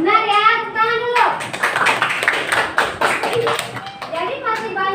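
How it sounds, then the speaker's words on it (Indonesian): Children clap together in a classroom, a burst of quick uneven claps in the middle, with children's voices chanting before and after. "tepuk tangan dulu"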